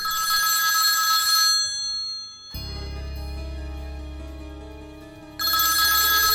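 A telephone rings with a bright electronic trill in two bursts, separated by a lower droning stretch before the ringing resumes.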